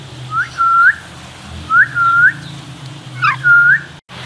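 A hand-tame pet parrot whistling, three clear rising two-part whistles repeated at steady intervals, loud and close with no talking over them.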